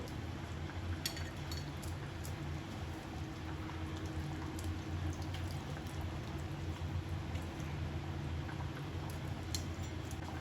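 Chicken soup bubbling at a steady boil, a dense wet simmer with occasional small pops and ticks, continuous and close throughout.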